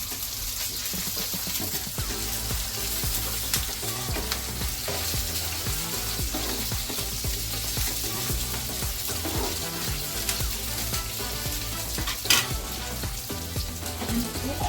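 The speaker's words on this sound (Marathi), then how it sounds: "मग त्याच्यामध्ये आपण ह्या उभ्या चिरलेल्या मिरच्या टाकून एक मिनिटभर परतायचं" Slit green chillies sizzle in hot oil with cumin, mustard seeds and garlic, a steady loud frying hiss with occasional stirring clatter throughout.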